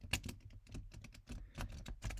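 A deck of cards is shuffled close by, with a quick run of crisp, uneven taps and soft flutters lasting a couple of seconds.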